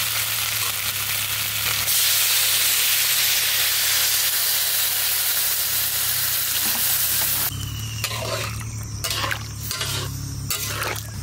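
Duck curry with potatoes sizzles loudly in a hot pan, a steady dense hiss that abruptly changes as water goes in. Afterward come quieter bubbling and several clattering stirs of a utensil against the pan.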